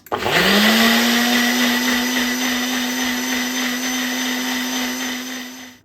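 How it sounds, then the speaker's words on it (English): A Ninja blender spins up with a rising whine and then holds a loud, steady roar while pureeing soft food for baby food, running alone without talk until it cuts off at the end. "Let's puree again."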